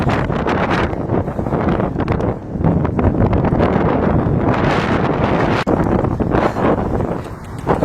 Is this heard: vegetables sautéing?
no